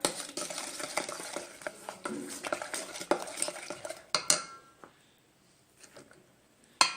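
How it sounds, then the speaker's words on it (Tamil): Pancake batter stirred in a bowl as flour is added bit by bit, a spoon scraping and clinking against the sides in quick uneven strokes, close and fairly soft, ending in a few isolated taps after a brief pause. "அண்டு இதில் கொஞ்சம் கொஞ்சமாக ஃப்ளார் ஆட் பண்ணிவிட்டு மிக்ஸ் பண்ணிக்கணும் நல்லா"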